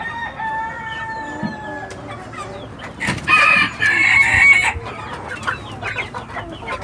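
Chickens cluck and a rooster crows loudly in the middle, with other hens calling nearby and scattered farmyard clucking throughout.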